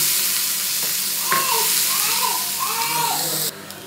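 Finely chopped onion frying in hot oil in a pan, a continuous close sizzle with a faint voice briefly heard under it before the sound drops near the end.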